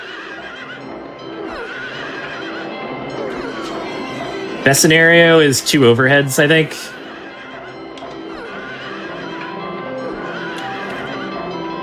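Carousel horses in Silent Hill 3 let out a loud, close whinny lasting about two seconds, set against steady game ambience. Someone talks calmly before and after the neigh.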